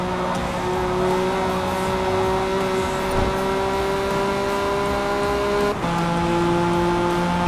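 Engine of a Honda NSX-R 05 race car in a racing game at Michelin Raceway Road Atlanta, a loud sustained high whine that holds steady and then drops sharply on a gear change, with tyre noise and no talk.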